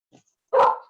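A dog gives a single loud, close bark after a faint small whimper, alone with no talking.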